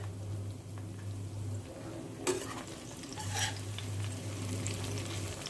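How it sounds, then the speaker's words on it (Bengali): Two large onions fry until browned in a pan for cauliflower hot roast, a steady close sizzle with a few sharp stirring scrapes of the spatula against the pan, under a low electrical hum. "এখানে দুটো বড় বড় পেঁয়াজ ভাজছি"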